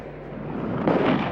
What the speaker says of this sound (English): A huge explosion of water blasted 30 meters into the air.